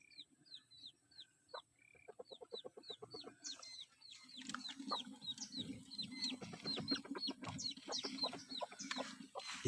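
Labuyo jungle fowl and native chickens cluck and chirp in quick repeated bursts, the calls overlapping and growing busier, with soft rustling underneath, all fairly faint.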